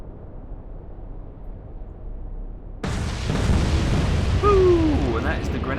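Torpedoes strike and sink a ship in the naval video game Atlantic Fleet: after a quiet low hum, a sudden loud blast opens into a sustained roaring rumble with rising whistling tones.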